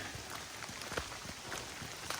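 Steady rain patters on a sloppy, puddled hiking trail between Gray's Arch and Hanson's Point in Red River Gorge, a soft continuous hiss with scattered drip ticks, no voices.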